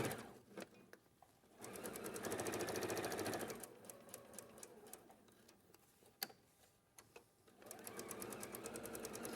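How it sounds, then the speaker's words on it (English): Sewing machine running fast bursts as it stitches a quarter-inch seam all the way around a fabric edge, with rapid mechanical ticking in several sustained runs separated by brief pauses and clicks. "I'm going to now sew this all the way around the edge using a 1/4 inch seam allowance with no gaps"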